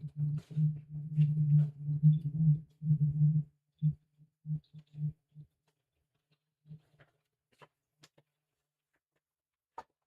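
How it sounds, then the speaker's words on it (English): A TV in the background puts out a low humming tone in broken pulses, steady at first and then fading into sparse short blips, with faint high beeps near the end. "that's the TV in the background"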